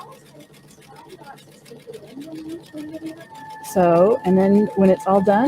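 A sewing machine stitches a bar tack on a fabric cord organizer, a rapid even whir of needle strokes running throughout, growing louder and busier near the end while someone talks over it.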